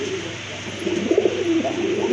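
A pair of large Indian Bombay pigeons coo in a steady run of low, rolling calls, fairly close and clear over a constant background hiss, with no voices.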